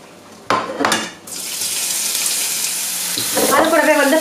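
Ginger garlic paste drops into hot oil in a pan for a meatball curry, set off by a couple of clattering knocks before a loud, steady sizzle takes over, with more utensil scraping near the end.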